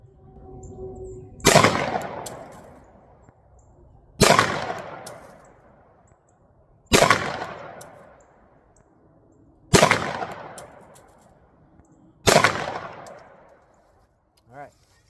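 Five single shots from a SAR 9T 9mm pistol fired at 7 yards on a range, each a sharp loud crack with a fading tail, spaced about two and a half seconds apart.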